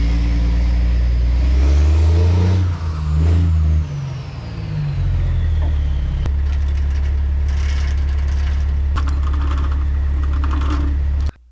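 A broken 30-ton excavator's diesel engine labours loudly and steadily as the machine works to climb out of a mudhole, with deep rumbling load that dips briefly, then holds strong until it cuts off abruptly at the end.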